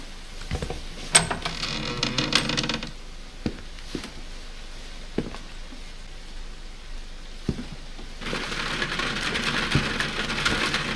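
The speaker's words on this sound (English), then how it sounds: "Oh, and it's raining." Rain falls in the video game White Night as a soft, steady hiss, with scattered sharper thumps and a denser, louder wash of downpour toward the end.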